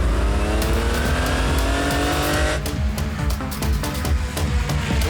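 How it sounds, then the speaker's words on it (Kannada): A cartoon car revs hard and drives off in a race, the engine whine climbing in pitch with tire squeal, loud and close, then settling into rapid rattling rumble. "ನೀನ್ ಕೂತ್ಕೊಳ್ಳೋ, ನಾನು ಗಾಡಿ ಓಡಿಸ್ತೀನಿ."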